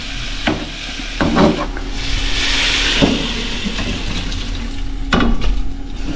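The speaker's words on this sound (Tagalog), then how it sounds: "Ngayon lagyan natin ng konting sabaw." Broth poured into a hot pan of oil with beef cubes: a steady loud sizzle and hiss with bursts of bubbling and stirring scrapes, close up, no talking.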